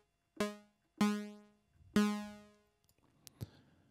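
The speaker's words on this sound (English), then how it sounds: "I've now got a short, plucky type sound" Three short plucky synth notes from an Access Virus TI, each a sharp attack with quick decay to silence, evenly spaced and fairly quiet, followed by a few faint clicks.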